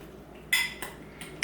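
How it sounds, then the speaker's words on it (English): A spoon scrapes and clinks as tuna and mayonnaise are stirred in a bowl: a few quiet, brief contacts, the sharpest at the start and the end. "I'll give myself 1 big scoop, give it a stir, and see what the consistency is like."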